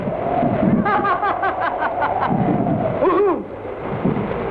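Heavy rain and rumbling thunder roar steadily, with a brief harmonic voice-like cackle rising over the storm midway.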